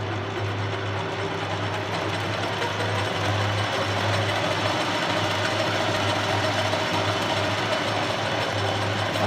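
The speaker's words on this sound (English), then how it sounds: "you simply push on this button here as it indicates slow, reducing spindle speed" Sheldon metal lathe with its spindle running and slowing down, a continuous close mechanical hum and whine with steady drone throughout, no talk over it.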